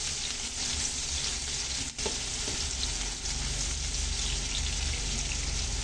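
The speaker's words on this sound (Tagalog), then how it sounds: "Sunod na natin itong sibuyas guys. Para sabay-sabay na silang mag-brown ng konti." Ginger, garlic and onion fry in a pan and give a dense, constant sizzle with crackles and pops. A brief stir or scrape cuts through near the two-second mark, and no one speaks.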